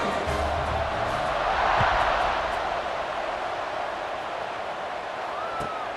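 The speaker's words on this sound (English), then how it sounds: "this crowd now ready to get behind them" In EA Sports College Football 26, a stadium crowd roars in a steady, dense wash of cheering that swells briefly and then holds, loud and distant, with no commentary over it.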